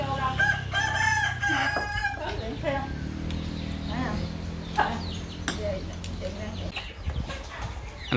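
Chickens on a rural Vietnamese farm cluck and a rooster crows nearby, calls rising over a busy background while people talk throughout.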